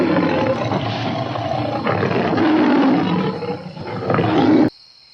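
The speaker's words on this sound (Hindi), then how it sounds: "अचानक पीछे से शेर की जोरदार दहाड़ सुनाई देती है।" A lion's loud, drawn-out roar rumbling continuously for several seconds, close and powerful, cutting off abruptly into near silence, with no speech.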